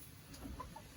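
Chickens clucking at a Thai village home, a few short soft clucks over low background noise, brief and moderately distant.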